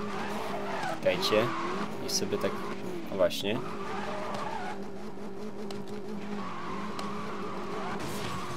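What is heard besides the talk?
Porsche 918 Spyder Concept engine and wheelspin, Need for Speed Most Wanted video game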